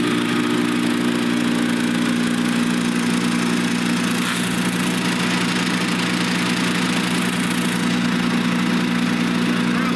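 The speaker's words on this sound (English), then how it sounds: "my dad was on the lawnmower about to shred the games" A lawn mower engine runs loud and close for the full ten seconds, a steady, unbroken droning hum with no change in rhythm and no voices.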